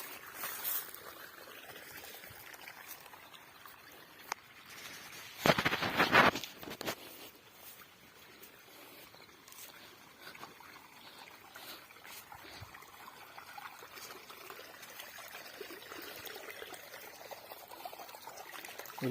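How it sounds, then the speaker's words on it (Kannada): Water runs out of a pipe fed by a pump working without electricity or a motor on a village farm, a faint steady trickle with one brief, louder gushing burst near the middle. "ನೀರು ಹೇಗೆ ಬರ್ತದೆ ನೋಡಿ"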